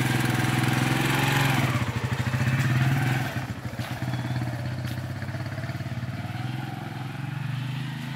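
Motorbike engines rumble nearby in The Gambia's Central River Region, revving and then settling into a steady idle with some clattering.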